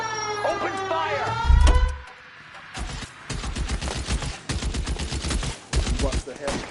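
Gunfire from the L.A. Noire video game, a series of sharp shots and bursts of rapid fire with dialogue spoken over the opening, then repeated close, loud volleys.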